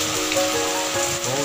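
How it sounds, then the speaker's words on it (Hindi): Heavy rain pours steadily in Ranchi, a dense continuous hiss of drops striking surfaces, loud and close throughout with no pauses. "बहुत तेज बारिश हो रही है दोस्तों"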